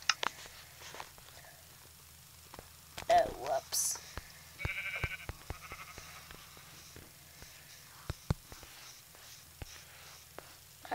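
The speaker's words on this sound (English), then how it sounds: "Hi, sheep." A video game sheep bleats once in a survival let's-play, a brief mid-level call amid scattered clicks and soft in-game ambience, with a player's voice nearby.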